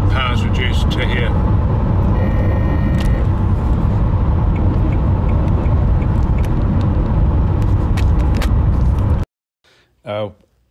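Steady electric motor hum and road rumble fill the cabin of a moving Nissan Leaf with reduced power from a hot battery, then cut off abruptly before a short burst of speech.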